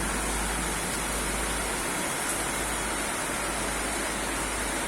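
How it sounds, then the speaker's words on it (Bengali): Heavy rain pours down outdoors as a steady, dense hiss with no break and no voices. "বাইরে ঝমঝম করে বৃষ্টি হচ্ছে"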